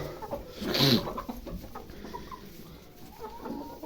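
Chickens cluck nearby, one loud squawk near the start followed by softer scattered clucks over faint background noise.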